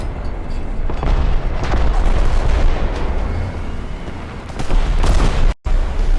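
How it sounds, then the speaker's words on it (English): Incoming missiles in War Thunder, a dense roar of booms and explosions rumbling continuously, loud and near, with a brief sharp cutout near the end. "it still does a pretty good job of deflecting all of these missiles that you can hear coming in"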